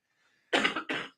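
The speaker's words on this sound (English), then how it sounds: "I'm going to cough into my things" A person gives two short, throaty coughs close to the microphone in quick succession, after a brief silence.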